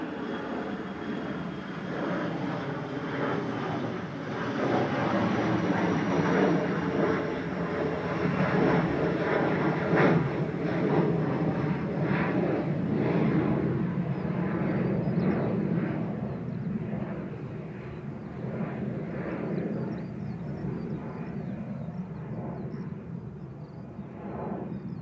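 Broad, steady rumble of an Embraer ERJ145 regional jet passing at Manchester Airport, swelling in the middle and easing toward the end, heard alone without talk.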